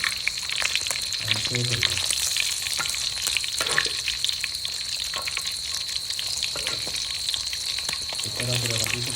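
Rohu fish heads fry in a pan, with a dense continuous sizzle and crackle close up, and brief speech in Bengali over it.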